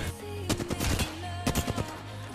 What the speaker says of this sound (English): This guy just doesn't stop shooting!